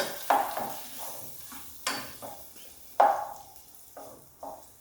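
Onion frying in a pan, with a hiss under repeated loud scraping strokes of a utensil against the pan, roughly one each second, close and clear with no talking.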